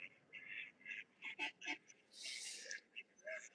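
Ducks quacking and honking in bursts, several calls in quick succession, one longer harsh call in the middle, fairly close against a noisy outdoor background.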